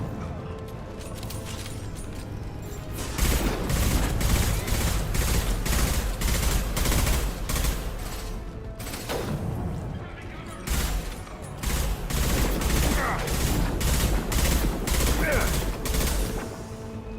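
Bursts of dense gunfire in the Mass Effect Legendary Edition video game, loud and nearly continuous, with rapid volleys overlapping and a short lull midway. Voices speak now and then beneath the shooting.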